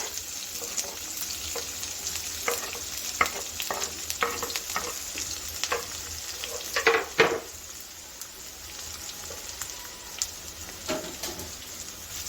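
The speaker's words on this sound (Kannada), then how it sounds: "ಈರುಳ್ಳಿ ಚೆನ್ನಾಗಿ ಫ್ರೈ ಆಗಬೇಕು." Chopped onions sizzle steadily in hot oil in a pan while cooking for a drumstick stir-fry, with scattered stirring scrapes and clinks over a constant hiss throughout.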